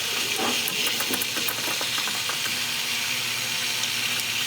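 Rushing, hissing water pouring steadily through a Volvo B30 engine block during a back-flush from a 3/8 hose, with scattered clicks and knocks early on, continuous and close.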